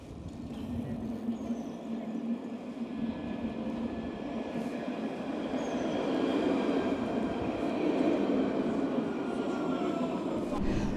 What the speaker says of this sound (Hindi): मेरी ट्रैम आ रही है, और इसी ट्रैम में बैठ कर मुझे जाना है